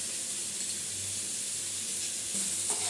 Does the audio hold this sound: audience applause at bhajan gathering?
no